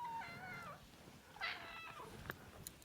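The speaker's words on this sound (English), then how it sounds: "The cat's going to keep coming in because he wants out" A house cat meows repeatedly, wanting to be let outside; several drawn-out, rising and falling meows sound close by in a quiet room, with soft background noise between calls.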